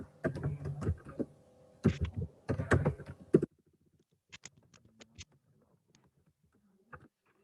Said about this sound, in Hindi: तो देखिए मैं यहाँ पे बी सी डी लिख रहा हूँ